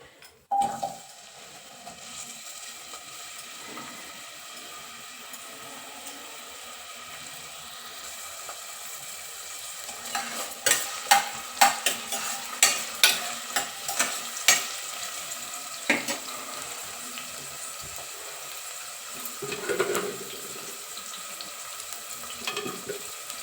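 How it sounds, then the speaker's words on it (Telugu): Onions frying in hot oil for a paya curry over a high flame, a continuous low sizzle with a burst of sharper crackles and clatter partway through, close and fairly quiet, no talking. "ఆయిల్ అయ్యాక ఆనియన్,"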